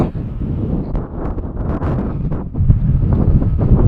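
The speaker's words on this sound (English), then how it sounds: "Hopefully you can hear me over the wind." Loud wind buffets the microphone outdoors at an off-road wind farm, a continuous low roaring rumble that swells and gusts without pause.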